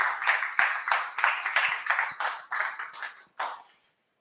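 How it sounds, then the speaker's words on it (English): A crowd claps steadily in applause, dense and fairly loud, tapering off and then stopping near the end. "Everyone give us a round of applause for Jonathan."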